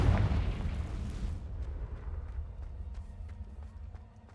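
A Confringo blasting spell bursts in Hogwarts Legacy, a loud broad boom that quickly fades into a low rumbling tail with faint scattered pops.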